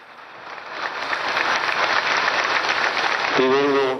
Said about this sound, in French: Un fraterno applauso a tutti loro.